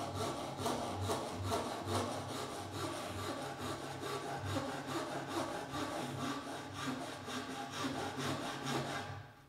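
A Japanese-style hand saw, by the joinery context, cuts a shallow kerf in wood in rapid, even back-and-forth strokes, rasping steadily up close for several seconds before stopping.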